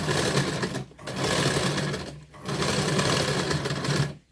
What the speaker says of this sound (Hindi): बस ऐसे ही सिलाई लगानी है